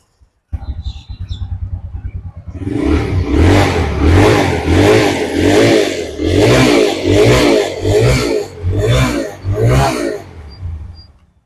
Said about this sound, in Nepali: साउन्डदेखि पनि थाहा भइहाल्छ यो बाइकको पावर पिकअप कस्तो छ भनेर